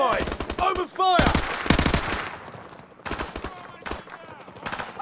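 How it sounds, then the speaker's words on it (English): Rapid automatic gunfire from Call of Duty: Modern Warfare Remastered crackles in dense bursts and short pauses, mixed with shouting game voices at the start. "We're compromised! Open fire!"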